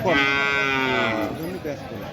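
A cow at a busy cattle market in Pabna gives one loud, drawn-out moo up close, with faint crowd murmur behind.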